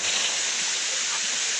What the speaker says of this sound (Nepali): बाहुबली झरना